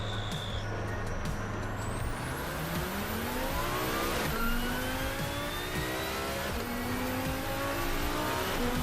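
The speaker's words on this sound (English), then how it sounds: "driving the Lamborghini Huracan" A Lamborghini Huracan in a Moza racing simulator revs and climbs through the gears, its engine pitch sweeping upward in rising, sustained tones over a steady roar.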